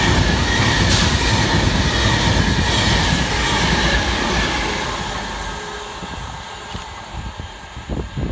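An Avanti West Coast Class 390 electric train, running from London Euston to Manchester Piccadilly, passes through Kidsgrove railway station with a steady loud rolling rumble and wheel noise that slowly fades, ending in scattered clicks and rattles.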